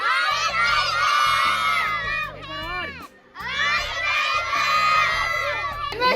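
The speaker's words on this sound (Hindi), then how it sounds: "बुलाओ जोर से बुलाओ टाइगर को" A group of schoolchildren on a zoo trip shout loudly together to call a white tiger, two sustained bursts of high excited yelling with a short pause between, close and crowded.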